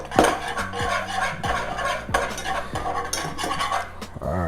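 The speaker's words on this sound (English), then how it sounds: "I'm gonna go ahead, mix it in a little bit" A spoon scrapes and clanks against a pot while stirring sauce for chicken wings, giving repeated close metallic knocks in an uneven rhythm, fairly loud, with no one speaking.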